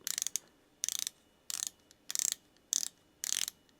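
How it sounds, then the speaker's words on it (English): A 12-hour DLC-coated matte yellow watch bezel being turned, giving six quick bursts of sharp ratcheting clicks, each a rapid run of close, crisp ticks separated by short pauses. "It's a 12-hour bezel that sounds pretty good."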